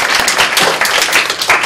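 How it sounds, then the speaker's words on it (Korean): Seminar participants at an international development talk concert receive brief, loud, close applause, a quick burst of many hands clapping. "이 세미나에 참여하신 분들을 위해서 박수 한번"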